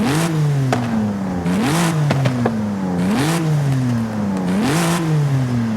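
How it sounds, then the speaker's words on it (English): A BMW M2 engine in Forza Horizon 5 revs repeatedly, pitch rising and falling in four or five swells, steady and close, with a synthetic, game-like evenness and no talk. "let's have a listen to the M2 revving"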